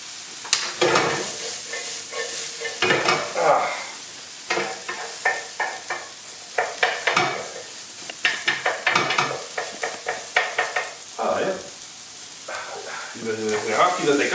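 Food sizzling and frying in a pan with oil and honey while being stirred, with intermittent scraping and clattering of utensils and bursts of loud crackling throughout.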